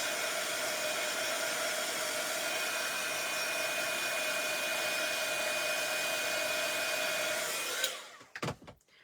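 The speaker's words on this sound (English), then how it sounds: "let me just give this a quick whiz with the heat gun" A heat gun drying ink on card, a steady loud whooshing blower hum that runs for several seconds and then cuts off, followed by brief handling clatter, with no talking.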